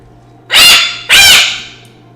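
A black palm cockatoo in the zoo game Planet Zoo gives two loud, harsh screeching calls in quick succession, close and alone, with no talking.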